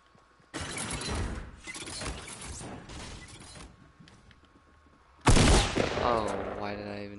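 Gunfire from a player shooting in a PS4 video game comes in two loud bursts of rapid shots with clattering impacts, separated by a quieter stretch.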